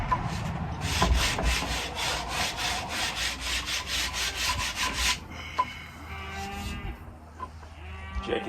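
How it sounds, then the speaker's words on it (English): Dogwood arrow shaft being sanded by hand, with rapid rhythmic rubbing strokes for several seconds, then slower, scattered scraping and handling sounds, close and moderately loud. "Then I'm gonna go back to sanding it."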